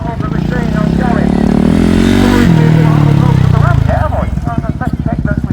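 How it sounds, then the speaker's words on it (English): A vintage motorcycle engine at a vintage car show in Kington, Herefordshire, revs loudly up close in one long sustained rise and fall, then settles into a rapid, uneven idle chatter. "Clear the bike out, get the cobwebs out of the machine."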